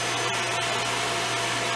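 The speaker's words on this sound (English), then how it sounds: "are using the vacuum head with gate to sort of brush the edges" A vacuum cleaner with a spatula taped on as a gate, used to clean up ants, whirs loud and close, a steady whining roar with faint scraping clicks over it.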